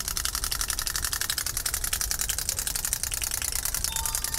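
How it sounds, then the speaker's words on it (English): A small wind-up toy runs after being wound, giving off a fast, even mechanical ticking and whirring that stays steady and close for several seconds. "we've got some little wind up toys for the kids"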